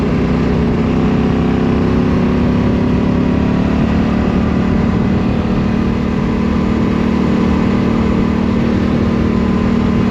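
A vehicle rolls along a washboard gravel road in the Moroccan desert between Ouarzazate and Zagora, its engine droning loud and steady under a constant rumble of rattling tires, with no voices.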